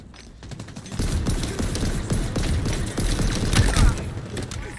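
Rapid pistol gunfire in the video game Halo Infinite multiplayer, a steady stream of sharp shots and impacts mixed with chaotic battle noise, loud and continuous for several seconds.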